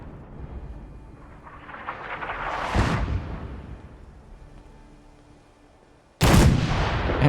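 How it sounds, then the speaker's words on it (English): Gunfire from old guns in Fallout 4: a long rolling blast builds to a loud crack near three seconds, fades, then another sharp loud shot bursts in near the end, heavy and booming. "Oh, he's still firing."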